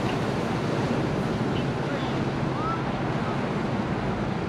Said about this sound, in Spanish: Esta playa hermosa que ven aquí se llama la playa de Ocean Park.